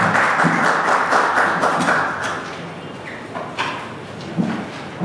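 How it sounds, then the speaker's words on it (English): An audience at a freelancer summit claps, a dense wash of applause that starts strong and thins out over a few seconds into scattered claps. "A round of applause for Jamaica."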